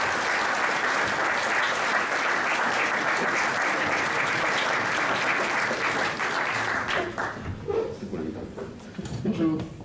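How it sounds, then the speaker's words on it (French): Audience applause welcomes a speaker at an evening talk over a few beers, dense and steady for about seven seconds before thinning out into scattered claps and some murmuring. "avec sous votre applaudissement"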